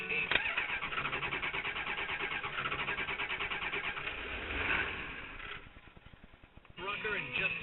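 A Ford 7.3 IDI mechanical indirect-injection turbo diesel, running on half waste motor oil, cold-starts at 43 degrees on a third try after glow plugs, with loud steady cranking, a rough catch and a dip before it picks up again.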